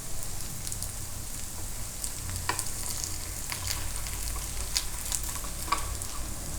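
Sabudana appe fry in a pan with a steady soft sizzle and occasional light crackles and pops, close and continuous without talk.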